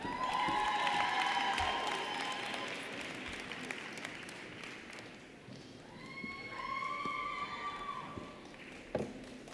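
Graduates at a university public health spring commencement ceremony are greeted with sustained applause from a large audience, steady and fairly loud throughout, with a few scattered cheers and whistles rising partway through.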